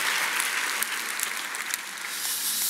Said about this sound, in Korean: 청년부 찬양팀 애쓴다고 우리 박수 한번 해주세요